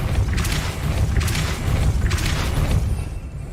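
Depulso spells are cast in the game Hogwarts Legacy: three distinct whooshing bursts about a second apart, each with an airy hiss over a deep thumping boom, fairly loud over a steady low rumble, no voices.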